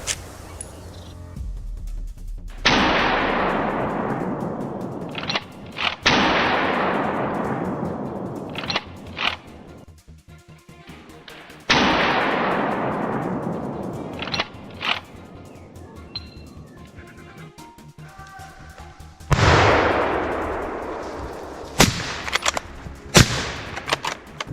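Gunshots during a wild boar hunt in a forest: four or five loud, sharp blasts, each followed by a long rolling echo decaying through the trees, with a few smaller cracks and clicks between them.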